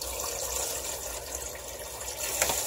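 Water running steadily from a tap to rinse off soap-making tools, a continuous hissing splash that is close and fairly loud throughout, with no talk.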